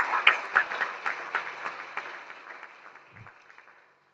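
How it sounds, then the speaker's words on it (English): Audience applause for a keynote speaker at a Federal University Otuoke event in Bayelsa State, a burst of clapping that starts strong and tapers off over a few seconds, with scattered hand claps fading to quiet at the end. "Please, a round of applause."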